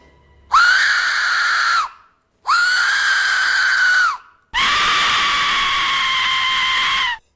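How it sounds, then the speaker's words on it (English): Three long, piercing screams from an Aztec death whistle, harsh and shrill, each lasting a second or more with brief silences between, loud and close. "when you blow it, it makes that scream sound."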